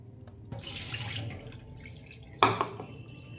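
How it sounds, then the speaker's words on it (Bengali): Potatoes are rubbed and rinsed in water in a sink, with a running-tap wash and swish at first, then a brief louder splash and drip near the end; no one speaks. "দেখো ভালো করে রোগড়ে এই সাদা জলটা আলুর যে টাচটা বেরোয় সেটাকে ফেলে দেব"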